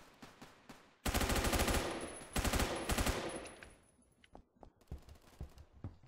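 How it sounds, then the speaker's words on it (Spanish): Loud rapid bursts of automatic M4A1 rifle gunfire in Roblox Phantom Forces, a couple of sustained volleys, then scattered fainter single shots. "Con razón me están lloviendo tantos tiros"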